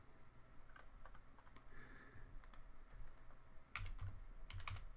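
Typing on a computer keyboard during work in AutoCAD: irregular clusters of keystrokes, close and moderately loud, with a denser burst near the end and no talk.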